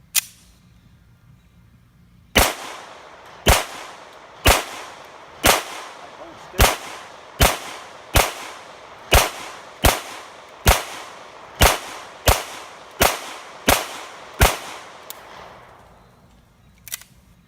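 Loud, sharp gunshots from a Para Ordnance 1911 pistol fitted with a compensator and set up for competition, about thirteen evenly spaced reports in a steady string with a brief pause before the first, heard without talk.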